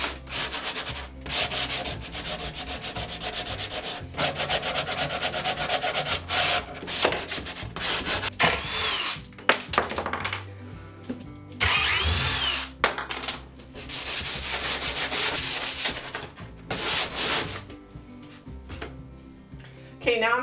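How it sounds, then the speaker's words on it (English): Hand sanding of painted wooden bathroom cabinets, a close, steady rasping scrub in repeated strokes, with occasional louder passes and short pauses. "now I'm gonna remove all the sanding dust"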